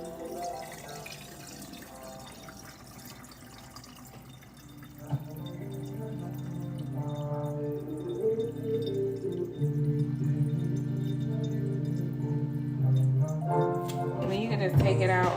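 Excess liquid dye poured out of a muck-dyed tie-dye piece, a wet trickle and splash under a steady tonal background hum that grows louder midway.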